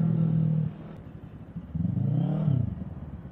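An FKM Falcon X400 motorcycle engine running: a steady low drone that drops away, then rises again in a short rev with a falling pitch, close and moderately loud, with no talk over it.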